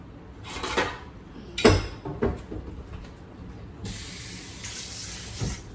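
Tap water splashing as a pan lid is rinsed in a kitchen while cooking Jamaican curry shrimp, short bursts of running water with clinks of the lid, then a steadier stream near the end, close and fairly quiet.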